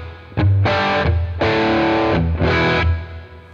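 Distorted electric guitar through a Fractal Audio Axe-Fx II with a medium room reverb rings out in four sustained strums, each fuzzy and thick, with a roomy reverb tail trailing after them.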